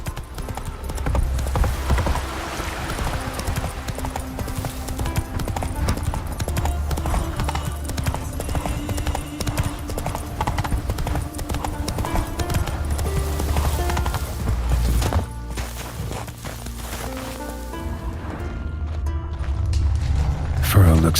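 Roach, a horse in The Witcher 3, gallops with steady hoofbeats under a continuous music bed, with no spoken words.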